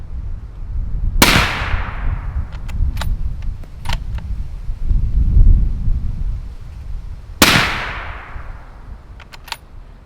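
Two sharp, loud rifle shots fired downrange at a shooting range, several seconds apart, each with a crisp crack and a ringing tail over steady outdoor background noise.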